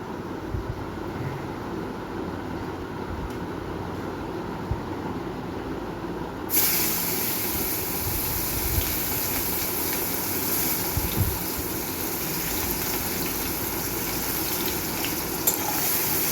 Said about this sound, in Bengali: পেঁয়াজ কুচিটা খুব ভালো করে ভেজে নেব।